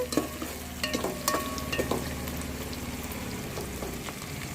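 Chopped onions and green chillies fry in oil in a pan with a continuous crackling sizzle, and sharp stirring clinks and scrapes come in the first two seconds.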